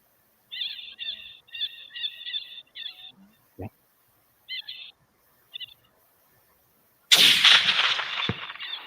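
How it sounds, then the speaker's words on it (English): Bird chirps repeat, then a sharp distant gunshot cracks out, followed a few seconds later by a loud, booming bullet impact that decays slowly. "From the sound of the weapon to the report of the bullet when it hit its target"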